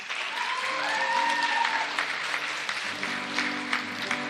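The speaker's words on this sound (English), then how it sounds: "Let's give them a round of applause." Applause rises for pageant finalists at a beauty contest, a soft, moderately distant patter of clapping hands under a background of music tones.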